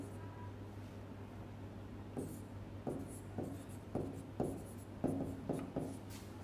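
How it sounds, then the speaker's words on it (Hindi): Marker or chalk writes on a board during a history lecture: faint, irregular scratchy strokes and taps come in short bursts over a quiet room hum. "देखो मैं लिख रहा हूँ"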